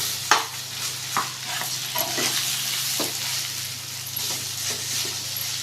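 Grated mango ginger sautés in oil in a kadai, sizzling with a steady crackle while a spoon stirs and scrapes a few times, close by with a low hum underneath.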